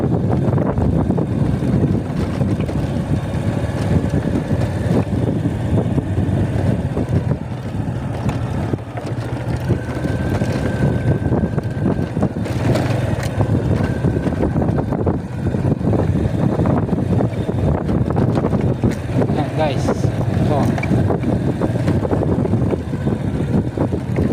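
Strong wind at the sea roars and buffets the microphone continuously, a dense rumbling wash with faint background sounds, no voices.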